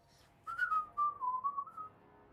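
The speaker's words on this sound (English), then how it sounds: "he's whistling while he works." A dwarf in Dragon Age II whistles as he works, a clear, wavering melodic tune of several sliding notes rising and dipping, fairly close, over a quiet background with no talking.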